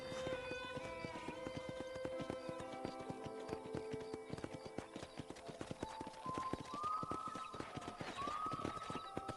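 Horse hooves clip-clop steadily on a ranch in the video game Red Dead Redemption, a fast and even trotting rhythm at moderate distance, set against a constant bed of game music and ambience.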